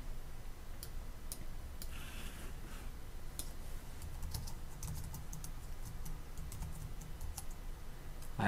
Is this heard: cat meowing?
no